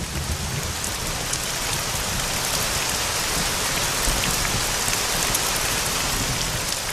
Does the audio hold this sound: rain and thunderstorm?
yes